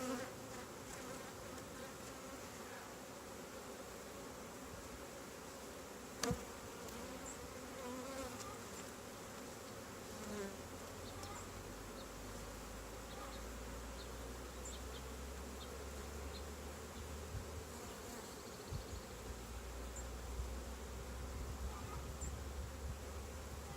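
Honeybees buzz continuously during an inspection of an open hive, a steady, moderately close drone of many insects, with a sharp tap partway through and low rumbling handling noise later.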